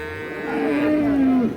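A Friesian dairy cow at a livestock market gives a single long, loud moo that swells and drops in pitch before cutting off, close by and with no speech over it.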